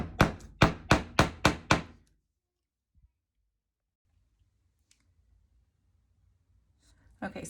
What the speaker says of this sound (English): just hammer around the outside